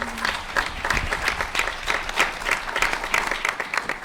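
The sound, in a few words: audience applause for a panel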